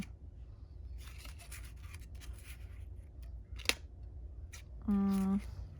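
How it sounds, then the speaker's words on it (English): Scissors snip paper for a handmade time card craft project, a series of soft, close cuts with one sharper click, then a brief voice speaks at the end. "I might have to cut off the bottom."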